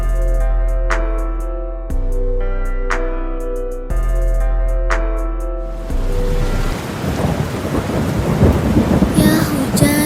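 Rain and thunder in Sakura School Simulator: a looping piano melody first, then a heavy downpour hissing loudly with deep thunder rumbles underneath, no one speaking.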